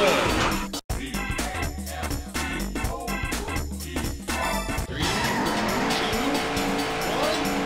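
Race cars in the Daytona arcade game roar continuously with engine revs, tire squeals and skids, loud and dense throughout, with game music and effects layered over it.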